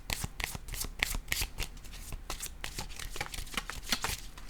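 A deck of tarot cards being cut and shuffled close by, a rapid, continuous run of crisp riffling flutters and soft slaps with no talking over it.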